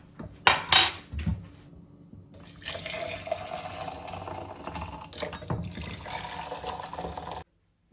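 A dirty pan being scrubbed at a sink, with scraping and clinking against metal, then running water filling and splashing steadily for several seconds, close and fairly loud.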